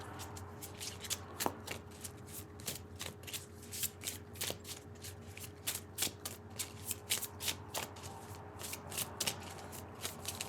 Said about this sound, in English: I've already shuffled these cards, now we're just pulling.